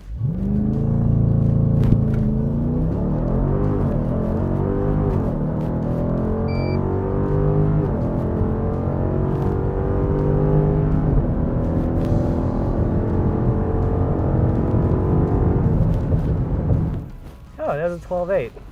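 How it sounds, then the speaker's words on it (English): A 2021 Dodge Durango SRT launching down a drag strip, with a loud, sustained engine roar that climbs steadily in pitch and then cuts off abruptly near the end. "I'm just gonna 2-foot it, see how high I can foot brake it before something happens."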